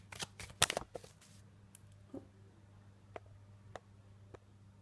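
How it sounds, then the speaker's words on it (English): A deck of tarot cards being shuffled up close, with a quick flurry of riffling snaps at the start, then isolated soft taps and ticks spread across a quiet room with a low background hum. "Sometimes I get a little bit too enthusiastic shuffling the cards"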